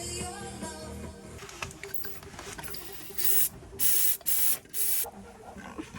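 Aerosol spray can fired in short hissing bursts into the engine bay of a Ford Escort Cosworth during an engine strip-down, four loud bursts after a stretch of quieter workshop noise.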